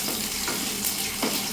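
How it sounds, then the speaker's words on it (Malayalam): Coconut pieces fry in smoking hot oil, giving a dense, continuous close sizzle with a few louder crackles and pops, with no voices. "കുറച്ച് തേങ്ങാക്കൊത്ത് അതിനകത്തോട്ട് എണ്ണയ്ക്കകത്തോട്ട് ചൂടായ എണ്ണയ്ക്കകത്തോട്ട് ഇടണം"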